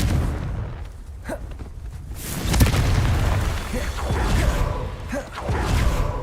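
A spell blast from the Confringo curse in Hogwarts Legacy booms out with a deep whooshing burst, followed by rumbling fire and further softer impacts over several seconds, with no talk over it.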